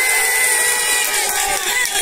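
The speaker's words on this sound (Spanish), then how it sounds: "Gran aplauso para el señor Juan Palma." Loud crowd noise at a national championship awards ceremony, a dense roar of cheering and applause with a harsh, buzzing edge, continuous throughout.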